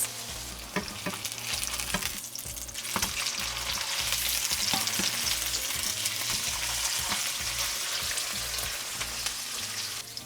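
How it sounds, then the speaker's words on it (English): Salmon burgers fry in a pan with a steady, close sizzle and crackle that holds through the whole stretch, with scattered pops on top and no voices. "we're gonna let this go in our pan for about 3 or 4 minutes per side until it's nice and golden brown"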